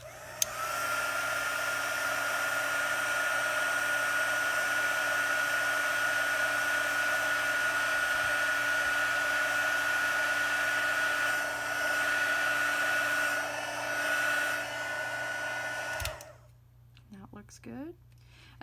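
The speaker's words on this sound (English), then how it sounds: "when you use your heat tool, your paper can kind of warp" A heat embossing tool blows a steady, loud whir of hot air over Versamark embossing ink on cardstock, holding constant for about sixteen seconds before cutting off, after which faint voice sounds follow.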